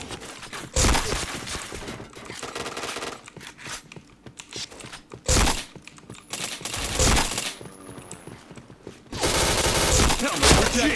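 Rapid bursts of automatic gunfire from the shooter game Point Blank, arriving in loud, sharp volleys. Quieter stretches fall between the bursts and carry clicking and game sounds.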